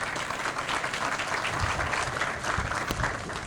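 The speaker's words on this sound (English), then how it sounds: "Everybody, give Evan a round of applause." An outdoor groundbreaking-ceremony audience at Oxbo in Bergen gives a round of applause, steady dense clapping that holds at an even level for the whole stretch.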